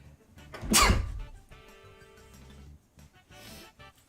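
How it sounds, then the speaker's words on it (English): A sharp, loud sneeze bursts out early, followed by quieter rustling and faint mechanical clicking. "Hold on a sec, I gotta sneeze."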